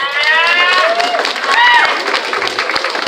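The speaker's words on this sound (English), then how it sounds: "So I think that deserves a round of applause." A crowd gives a round of applause for a graduating student at a graduation event. Clapping and cheering mix with excited voices and speech right up close, and the sound stays loud and busy through the whole moment.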